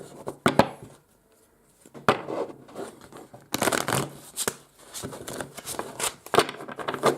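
Tarot cards shuffled by hand in repeated bursts of crisp riffling and slapping, broken by short quiet pauses, close and fairly loud.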